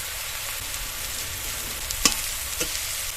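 Poultry skin and eggplant frying with salt, red chilli, turmeric, cumin and coriander powder in a pan: an even close sizzle with a couple of sharp spatula clicks near the end, no voices.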